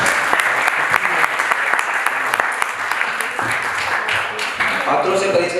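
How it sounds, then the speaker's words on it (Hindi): Loud, sustained applause with dense clapping from an audience after a Rajasthani folk theatre tamasha performance, steady throughout with a voice talking over it. "एक बार जोरदार ताली बजाएं।"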